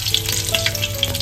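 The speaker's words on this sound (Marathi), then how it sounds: "सर्व अख्खा खडा मसाला तेलामध्ये घालून घेतलाय. तेजपत्ता घालतोय" Whole spices and a bay leaf frying in hot oil, a close, loud, steady crackling sizzle with small popping bursts, and no talk.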